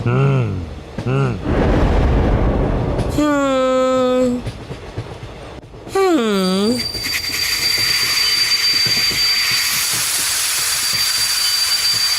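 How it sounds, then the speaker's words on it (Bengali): A cartoon train coming to a sudden stop, with whistle-like squeals, a hiss of steam and a rumbling rail noise. Cartoon voices speak in places. "আরে ট্রেনটা হঠাৎ করে দাঁড়িয়ে পড়লো কেন?"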